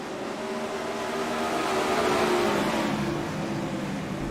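360 non-wing sprint cars racing at Williams Grove, a mid-distance roar of engines that swells as the pack passes, then slowly fades, with no talk over it.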